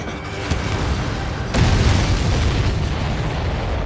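Explosions in the Ace Combat 7 video game, loud booming blasts with a sharp burst near the start and another heavy impact midway, followed by a dense rumbling roar.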